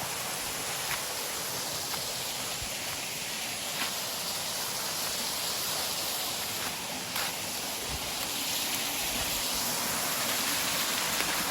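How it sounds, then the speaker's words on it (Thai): A small mountain waterfall pours in a steady, even hiss of falling water that holds constant throughout, close and moderately loud, with no voices. "น้ำตกนะทุกคน"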